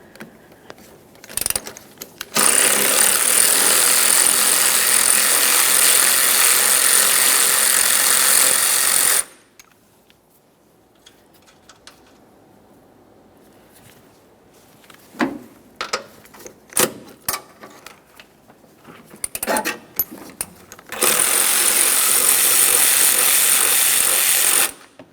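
Power tool zipping off 14mm strut mounting nuts on a 2011-2020 Toyota Sienna 3.5L V6, two loud sustained runs of whirring and rattling at the start and end, separated by quieter clanks and handling noises.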